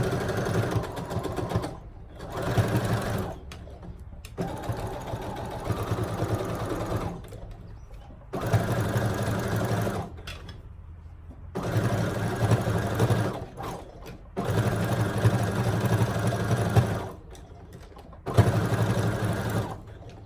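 A sewing machine stitches sweatpants in repeated bursts of fast, even whirring, each running a few seconds and broken by short pauses, loud and close with no talk.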